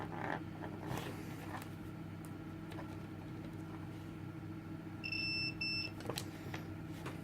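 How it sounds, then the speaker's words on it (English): A multimeter set to continuity mode gives a short steady electronic beep of about a second, faint against a low constant hum and light handling noise. "the easiest way to do that is to go continuity on your multimeter, and this is just going to simply tell you if you've got a circuit"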